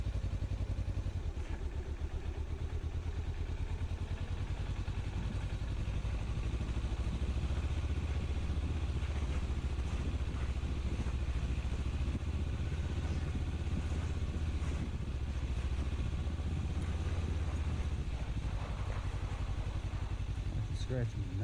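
Kawasaki Versys-X motorcycle fitted with TKC-80 tires, its engine droning loud and steady under light throttle with rumbling wind and road noise and some clatter throughout, plus occasional faint talk.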